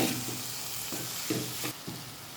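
Salt and chili get stirred into dondakaya (ivy gourd) curry in hot oil, a continuous sizzle broken by several soft scraping strokes of the spoon in the pan, close and fairly quiet with no talking.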